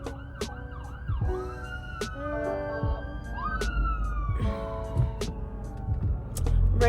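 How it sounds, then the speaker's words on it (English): An ambulance siren wails and sweeps past nearby on a city street, its rising and falling tones loud and clear over traffic noise, with no talking. "Oh no, it's ambulance."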